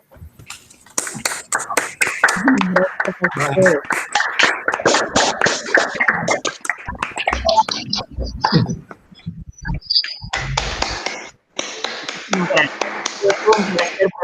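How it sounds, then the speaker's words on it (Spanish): An audience claps after a presentation, with many sharp, quick hand claps forming an irregular rattle that stops and restarts, mixed with people talking. "un fuerte aplauso de todos los que hemos participado de la misma"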